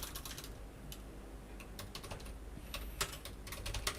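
Keys clatter on a computer keyboard as text is typed into a Microsoft Word document, quick uneven bursts of light clicks with short pauses, close and fairly quiet.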